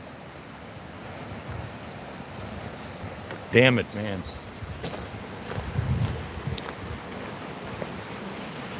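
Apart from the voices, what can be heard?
fast-flowing river water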